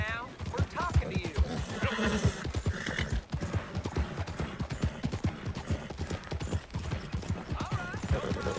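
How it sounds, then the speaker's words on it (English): A horse in Red Dead Redemption II whinnies repeatedly over a steady, rapid clip-clop of hooves, loud and close, while game characters talk. "that's a nice looking horse you have there"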